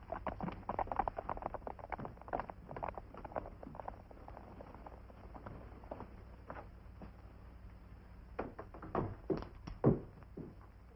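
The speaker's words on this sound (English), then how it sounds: "Saddle up my horse, will you," Horse hooves clip-clop at a walking pace in a Western setting, a loose run of quiet taps spread across the stretch, a few louder knocks near the end, over low background rumble and no talk.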